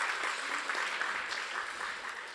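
Audience at a media science talk claps after a speaker, a steady round of applause at moderate level that tapers slightly toward the end.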